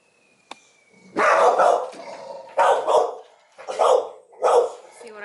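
Two dogs barking at home in short loud bursts, four or five volleys of sharp barks close by, separated by brief pauses, with no talk over them.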